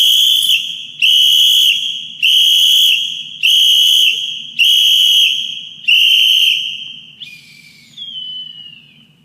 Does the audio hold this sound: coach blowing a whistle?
yes